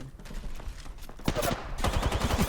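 Automatic weapon fire in Apex Legends, bursts of rapid shots growing denser and louder in the second half, with players talking over it.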